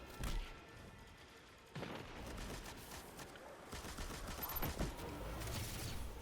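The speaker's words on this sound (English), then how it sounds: "you hold it in and it builds up the fire, and then you shoot it and it deals a considerable amount of damage" In the Destiny 2 shooter game, a charged weapon builds up and fires, with a rising buzz followed by sharp, heavy gunfire blasts at moderate volume, mixed with other game sounds.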